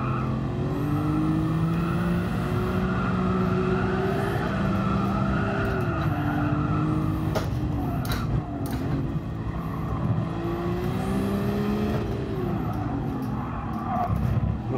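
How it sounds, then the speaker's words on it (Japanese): A 927-horsepower Nissan Skyline R34 GT-R in Gran Turismo Sport roars steadily, its engine pitch climbing and dipping through gear changes and throttle lifts, loud and close throughout. "もうフレキシブルなエンジン、ここ4速でも平気なんだよね。"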